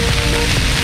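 A water fountain at the Palacio de Bellas Artes in Mexico City gives off a brief, steady rush of splashing water, loud and close with no talking.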